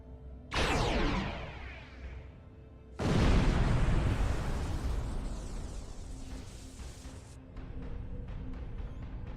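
A nanite torpedo firing and exploding in the Star Trek Online space game: a sudden loud launch burst, then a heavier booming blast that rumbles and fades over several seconds, with fainter crackling after.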